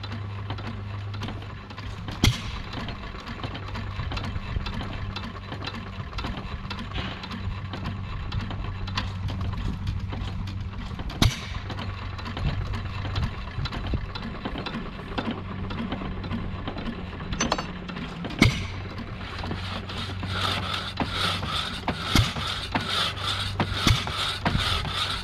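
An old flat-belt log saw built around 1912 by Ireland, running with a steady low mechanical hum and belt whir, overlaid by rubbing and clattering and occasional sharp knocks throughout.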